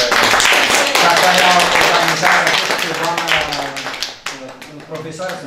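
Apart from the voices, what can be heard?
applause for a teacher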